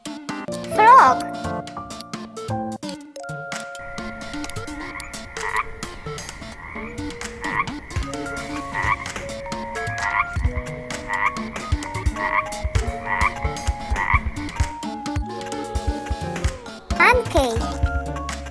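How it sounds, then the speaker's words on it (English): A frog croaks in a steady series of rhythmic, repeated calls over light background music, with a voice speaking near the start and end. "Frog."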